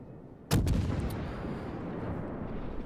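A single heavy boom from Mogami 6-inch naval guns firing in World of Warships, a sharp close blast followed by a long rumbling decay.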